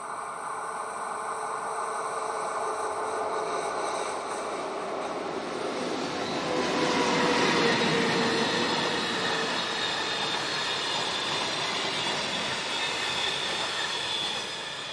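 Glacier Express train number 630 on its St. Moritz to Zermatt run rolls past steadily for the whole stretch, a broad rumbling wash of wheels and cars that swells around the middle and stays close, with faint squealing tones on top.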